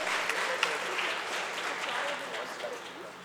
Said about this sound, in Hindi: इन सभी बच्चों के लिए बहुत सारी तालियां होनी चाहिए।